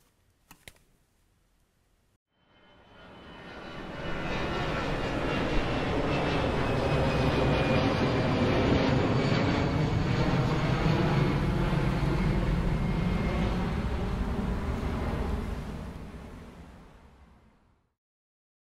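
An airplane engine roars overhead, swelling from silence into a loud, steady drone, holding for several seconds, then fading away.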